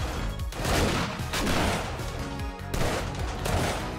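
Dense, continuous gunfire from the zombie shooter 7 Days To Die, Alpha 19, fired from base windows during a horde night, loud and sustained with rapid overlapping shots and brief gaps, no talk.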